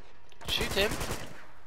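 Rapid bursts of automatic gunfire crackle during a firefight in the video game Uncharted: Drunk Fortune's urban warfare level, loud and close, lasting about a second.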